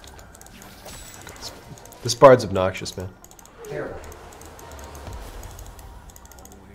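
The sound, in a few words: typing on a Razer BlackWidow V2 keyboard with green switches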